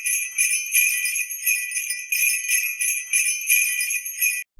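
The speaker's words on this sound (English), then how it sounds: "J is for jingle bells." Jingle bells shaken in a steady rhythmic pattern, bright metallic ringing in repeated bursts, loud and close with no voices, ending abruptly.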